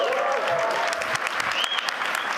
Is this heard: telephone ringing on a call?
no